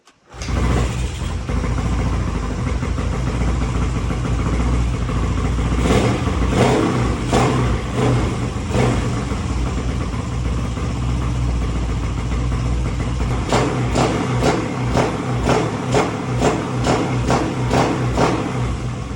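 A motorcycle engine started after sitting unused for a long time, catching quickly and then idling with a steady mid-pitched roar, broken by several sharp throttle revs in bursts, loud and close with no talk.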